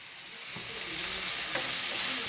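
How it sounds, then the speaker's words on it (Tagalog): Eggplant and eggs sizzling steadily in a hot pan for tortang talong, with a few faint stirring scrapes and no voices. "Gisa-gisa muna natin to"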